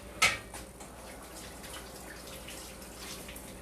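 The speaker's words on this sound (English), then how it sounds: "Let me rinse my hands real quick." Hands are rinsed under a running kitchen tap, a faint steady trickle of water after a brief knock near the start, heard close and without talk.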